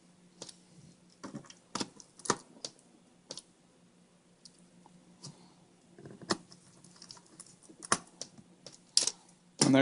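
Screws go back into a Dell Inspiron 1525 laptop case as a scatter of small, sharp clicks and ticks, irregularly spaced and close, over a faint background hum.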